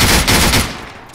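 Video game machine gun fire in a loud, dense burst that lasts most of a second and then cuts off, leaving a brief fading tail with no voices.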